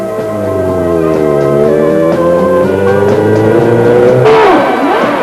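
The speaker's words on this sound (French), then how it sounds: "vous l'avez reconnu, le bruit envoûtant du Matra V12" Matra V12 race engine on a hill climb at a historic car rally, a loud, close, sustained multi-cylinder wail with shifting pitch and a rising snarl near the end, no voices.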